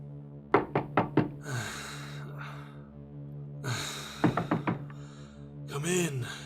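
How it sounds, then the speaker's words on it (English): Four quick knocks on a hotel room door, a pause, then another burst of four knocks, close and sharp, with a low hum and faint breathing beneath. "he knocked on the door."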